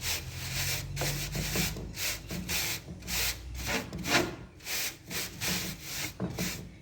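A laundry brush scrubs window screen mesh coated with soil in quick, rhythmic back-and-forth strokes, close and fairly loud, with no one speaking.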